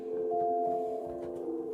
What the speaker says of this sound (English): Now, what I've got on here is a 16-foot flute, and it will sound like this.